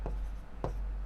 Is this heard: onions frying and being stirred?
no